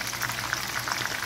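A two-kilo fish cooking in a pan, giving a steady, close sizzle and crackle of hot oil with no pauses.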